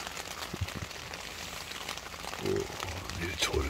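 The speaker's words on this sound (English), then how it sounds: "Can you hear the rain?" Steady rain hisses over a wild camp in Scotland, with a voice speaking under it.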